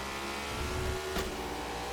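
Race car engine in the video game NASCAR 21 Ignition hums at a steady, fairly quiet pitch, with a brief sharp burst of noise midway through and no talk over it.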